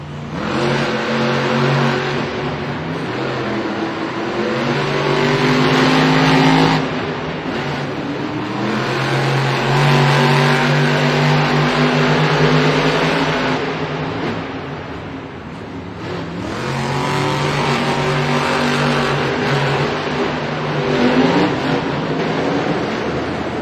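Monster trucks Grave Digger and JCB Digatron racing in a stadium arena event in Singapore, loud sustained roaring engines revving and rising in pitch, with heavy crowd noise underneath and brief dips between bursts of acceleration.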